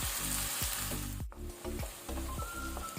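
Tomatoes fry in a pan with a loud, steady sizzle and crackle, and a few sharp pops of spitting oil stand out clearly above it.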